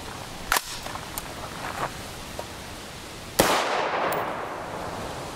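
.223 Remington rifle shots from a 20-inch AR with a 1-in-9 twist barrel, firing 75-grain Prvi Partizan BTHP rounds outdoors: two sharp reports a few seconds apart, the second louder and trailing off in a long echo, with smaller clicks between.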